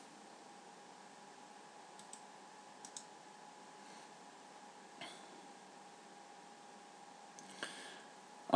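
A few faint, sharp computer mouse clicks spaced a second or two apart over quiet room hiss while editing a Drupal 6 page.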